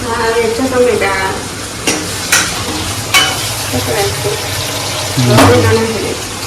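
Oil sizzles and crackles in a pan as stuffed okra goes into the tempering oil, with bursts of stirring, while voices talk over the cooking.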